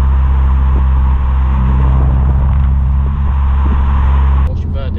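Engine of a Nissan Juke Nismo RS holding a steady, low droning hum heard from inside the car, with people talking over it.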